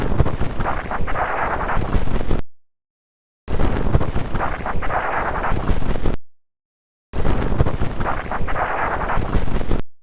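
Audified spacecraft data of solar wind turbulence with embedded ion cyclotron wave storm activity, rendered as a dense, hissing, wind-like rush with a faint tonal layer, playing in three loud repeated segments separated by short silences.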